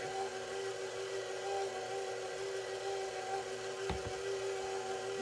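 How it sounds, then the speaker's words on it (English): A stand mixer on low speed blends a third of the flour mixture into the butter mixture for a double chocolate pound cake, giving a steady close-up motor hum with a brief knock near the end. "I'm taking a third of the flour mixture and mixing it in with the butter mixture."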